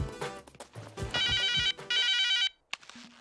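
A telephone ringtone plays in a Telugu comedy scene. Bright electronic tones come in two long, loud sustained bursts, with scattered busy sounds before them and a short tone afterward. No talking.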